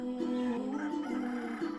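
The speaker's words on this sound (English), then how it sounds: "Many mornings we were awakened by a rooster crowing in the adjacent park" A rooster in a park beside a beach-house garden on the Garden Isle crows one drawn-out, wavering call, close and fairly loud, with no other voices.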